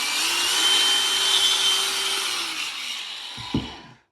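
A grinder-polisher spins at high speed on tile and gives a loud, steady, high-pitched whine that winds down near the end, followed by a brief knock.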